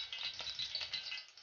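Washed cumin seeds crackle and splutter in hot oil in a pan, a brief run of quick, close, dry pops and rattles at low volume.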